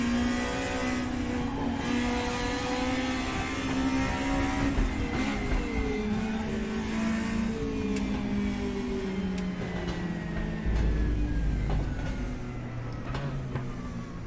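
BMW M3 EVO race car at Shanghai Circuit during an endurance race, its engine held near 10,000 RPM, a loud continuous onboard drone with shifting harmonic pitch over the full stretch.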